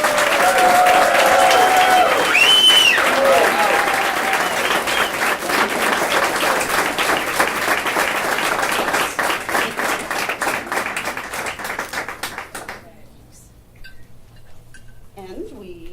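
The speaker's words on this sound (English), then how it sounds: "Ladies and gentlemen, please give a round of applause for our honoree, Vicki." A roomful of guests at a Girl Scouts Diamond event applaud a Diamond Honoree Award recipient with loud sustained clapping, sometimes crossed by voices or a whistle, fading away after about twelve seconds into near quiet.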